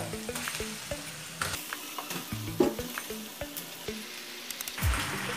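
Chicken sizzles in a hot pan for hotel-style biryani while a spoon stirs it, giving a steady frying hiss broken by frequent clinks and scrapes against the pan, close and fairly loud.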